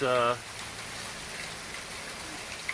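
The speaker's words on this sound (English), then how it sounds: "this rain got so intense I figured I'd get it on film" Steady heavy rain hisses across the whole clip, loud and continuous, with a short burst of voice at the very start before the downpour carries on alone.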